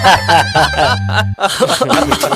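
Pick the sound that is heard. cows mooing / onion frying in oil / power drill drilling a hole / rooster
rooster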